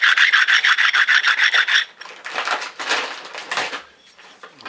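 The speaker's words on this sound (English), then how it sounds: "And you want to hit it with the smooth stone, or something smooth." A stone smooths a part of a Mossberg 835 shotgun with close, rapid, evenly paced rasping strokes, then slower and more irregular rubbing passes. No one speaks.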